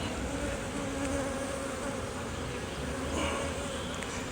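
Honey bees drone steadily around a hive frame as it is lifted out during an inspection, a dense, continuous close-up buzz holding level throughout with no talking.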